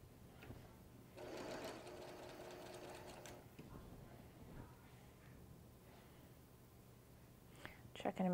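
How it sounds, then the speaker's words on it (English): Domestic sewing machine stitching down a pieced quilt block, a steady mechanical whir running in bursts with brief pauses, close by, with soft speech and handling noises around it. "And then we're gonna come over here and stitch it down."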